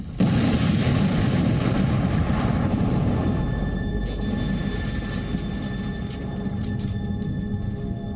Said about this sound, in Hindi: ऑयल डिपो में धमाका।